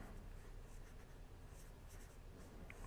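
Pencil scratching steadily across paper while sketching a figure, a soft continuous rasp with faint rhythmic strokes, close and alone with no voices.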